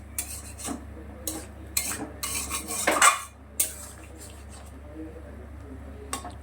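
Metal pan lid clatters and scrapes onto a cooking pan of poppy seed and melon seed paste, a few sharp clinks and rattles clustered near the middle, with softer kitchen handling noises around them.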